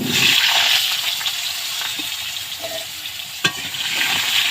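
Cut potatoes dropped into hot oil left from frying fish, a loud continuous bubbling sizzle with a brief spatula clack near the end, close up and without speech.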